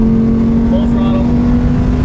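Audi R8 V10 engine at full throttle, a steady loud drone with a strong sustained tone heard from inside the cabin, with faint voices over it.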